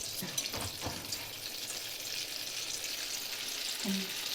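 Cumin seeds dropped into hot oil and butter for paneer bhurji give a soft, even sizzle and faint crackle, quiet and continuous, with a brief clink near the end and no talking.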